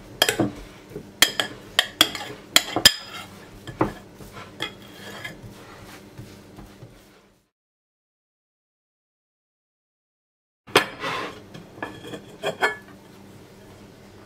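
A spoon pressing kısır into a bowl: close clinks and scrapes of metal on the dish in an irregular run, then several seconds of silence before another burst of taps and scraping.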